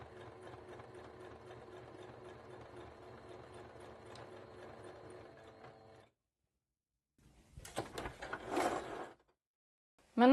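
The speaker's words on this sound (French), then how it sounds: "on vient coudre" Sewing machine stitching a seam for bias binding, a steady close mechanical hum and rapid needle patter for six seconds, then silence followed by rustling fabric handling.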